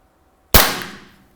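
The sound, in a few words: shot fired from shooting simulator gun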